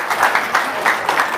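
An audience bursts into steady applause, a dense wash of clapping with small swells, close and fairly loud, carrying on evenly without a break.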